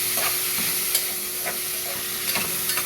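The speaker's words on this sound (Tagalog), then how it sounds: "i-stir lang natin hanggang maluto yung ampalaya" Bitter gourd and egg being stirred and sautéed in a pan, with a steady soft sizzle and occasional light scraping strokes of a utensil, close and moderately quiet, no talk.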